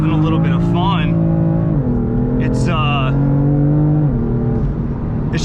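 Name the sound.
car with dual-clutch transmission revving and accelerating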